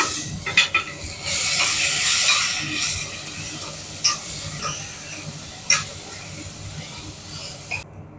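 Sliced big onions fry in oil with cloves, stone flower and fennel powder for a cowpea gravy, a close sizzle punctuated by sharp, irregular clacks of a stirring spoon against the pan, with faint voices in the background.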